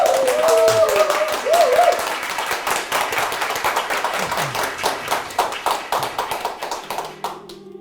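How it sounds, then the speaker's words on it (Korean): An audience applauds at a Korean lecture-concert on Haydn, building from scattered claps into steady, rhythmic clapping that continues for several seconds and then tapers off. Brief voices are heard near the start. "박수 한번 주시기 바랍니다"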